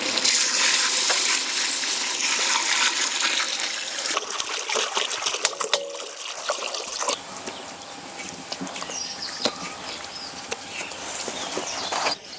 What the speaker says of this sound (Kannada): ನಿನ್ ಬಿರಿಯಾನಿಗೆ ನೀರಾಕಮ್ಮ